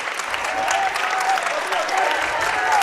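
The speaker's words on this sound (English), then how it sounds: "Dever gets a nice round of applause" A crowd at a high school basketball championship game gives a continuous, dense round of applause, steady and loud throughout with faint voices mixed in.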